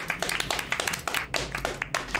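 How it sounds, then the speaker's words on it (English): A family clapping together at the dinner table, a brisk run of close, fairly even hand claps with a few lighter taps mixed in and no talking. "Why are we clapping?"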